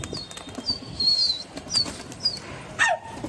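Pigeons being flown by a keeper, with light wing flaps and short chirping bird calls repeating over a few seconds, fairly close and soft against a quiet outdoor background.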